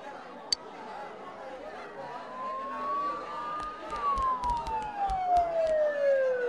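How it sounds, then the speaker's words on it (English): A siren wails in the distance in Persona 4 Golden, its pitch rising then sweeping down, over a low background murmur with a few sharp clicks and taps. "Don't those sirens sound really close?"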